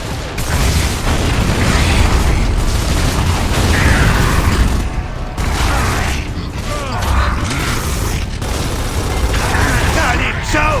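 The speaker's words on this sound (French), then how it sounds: "Gare à la grenade!" Gears of War 3 gameplay carries dense, loud battle noise with heavy booms and bursts from a grenade explosion, mixed with mechanical clanks and creaks, while a voice speaks over it in short calls.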